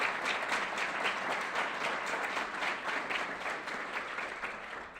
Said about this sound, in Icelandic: gefa þeim gott klapp til að byrja með.